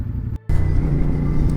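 A CF Moto 450SR sport motorcycle pulls away, its engine a steady loud low rumble with a brief dropout before the sound resumes and holds on.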